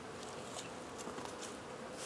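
Honey bees at a hive in winter, a continuous close buzzing drone with a few faint ticking or pattering touches mixed in.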